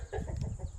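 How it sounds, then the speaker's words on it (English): An old farm rooster lets out a brief, muffled fragment of crowing, fairly faint and heard alone in the open air. "That old rooster came at the right time, didn't he?"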